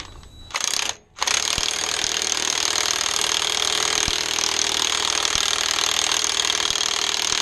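Impact tool tightening a nut onto a rear wheel stud fitted with washers on a Chevy Caprice with drum brakes, a loud continuous rattling buzz after a brief start and stop, close by and alone.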